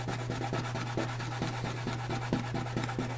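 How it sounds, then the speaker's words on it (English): Sandpaper rubs in quick repeated strokes along the edge of a Teraminx twisty-puzzle piece. The rasping is close and regular, over a constant low background hum. "So sand that edge down a little bit."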